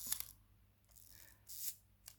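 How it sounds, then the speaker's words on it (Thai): An Olympus 35SP film camera shutter fires close by and quietly, giving a few sharp mechanical clicks spaced apart against a faint background hum. "ชัตเตอร์สปีด ก็เสียงมันจะเป็นอย่างนี้อยู่แล้วนะคะ"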